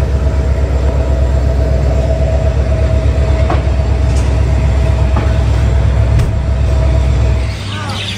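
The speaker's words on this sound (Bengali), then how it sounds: "সান্তাহাট থেকে ট্রেন ছেড়ে দিচ্ছে" A train pulling out of Santahar station at dawn, a loud continuous rumble of rolling wagons with rhythmic rail clatter and a steady hum, easing slightly near the end.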